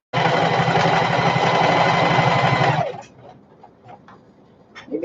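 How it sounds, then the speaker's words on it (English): A sewing machine top stitching a shoulder bag runs steadily for almost three seconds in a fast, even mechanical chatter, close and loud, then stops and leaves faint handling noises. "we're just sewing up the sides and then all the way down, top stitching"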